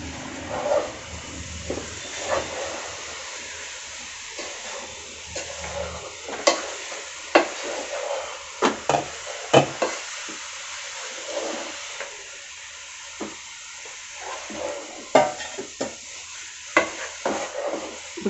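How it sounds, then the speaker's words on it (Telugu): Coconut laddu mixture with jaggery being stirred in a pan, a soft continuous scraping and faint sizzle punctuated by repeated sharp knocks of the spoon against the pan, close and irregular. "ఇప్పుడు బాగా మిశ్రమం అంతా చక్కగా బెల్లంతో పాటు కలిపేలా కలుపుకోవాలి"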